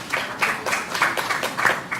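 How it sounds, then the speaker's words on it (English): Audience applause at a CII HR conclave, a steady wash of clapping from many hands for about two seconds, with no talk over it. "Let's welcome her with a round of applause, please."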